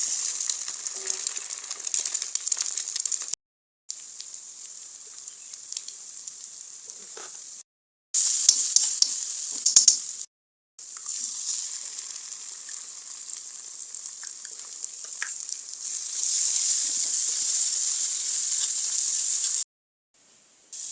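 An egg frying in a pan in a home kitchen, a steady bright sizzle that runs on for about twenty seconds with a few short breaks, close and moderately loud with no talking.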